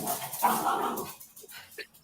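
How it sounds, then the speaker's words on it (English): Pit bull dogs bark and growl in a loud, dense burst over the first second, then fade to a few scattered, fainter yelps with some talk mixed in. "I can hear Craig's dogs giving it loads"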